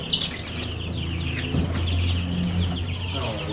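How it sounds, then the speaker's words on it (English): Many meat-bird chicks cheep continuously at close range, a busy chorus of high peeps over a low steady hum. "We got 51 chicks."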